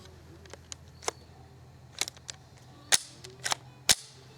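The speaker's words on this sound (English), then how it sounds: "next we're going to be shooting the Marlin Model 60. I've got 5 rounds already loaded up." A Marlin Model 60 fires .22 LR rounds at an outdoor target, giving a few sharp, separate cracks, the loudest near the end about half a second apart. Softer clicks and taps from handling the rifle come between the shots.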